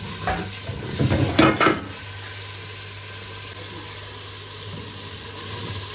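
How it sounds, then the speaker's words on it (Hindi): Masala spices being stirred and fried in a pan, with a burst of louder scraping and sizzling early on, then a steady low hiss and hum carrying through to the end. "अच्छे से इसको मिक्स करके फिर नीचे उतार लेंगे"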